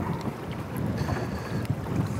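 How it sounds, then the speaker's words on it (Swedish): Wind blows across a small fishing boat out on open water, a faint steady rushing with light buffeting and no voices. "Känns som det blåst upp lite."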